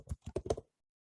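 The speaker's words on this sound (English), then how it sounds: "start typing in a name" Someone types a name on a computer keyboard while setting up a Microsoft Teams meeting: a quick burst of about five close keystrokes over half a second, then silence.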